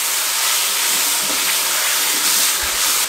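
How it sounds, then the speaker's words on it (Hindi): Mutton chaap roasting with masala over a medium flame gives off a loud, continuous, broadband sizzling hiss that stays close and even throughout, with faint stirring bumps underneath. "मीडियम फ्लेम पे मिसाले के साथ इसकी भुनाई करेंगे।"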